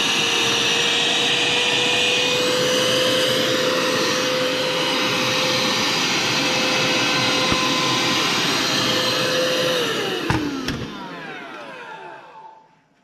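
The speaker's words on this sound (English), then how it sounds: "So I'll just try to vacuum most of that out." Vacuum cleaner sucking debris and cockroach remains out of an opened Xbox console, a loud steady whine and roar held for about ten seconds before the motor is switched off and winds down.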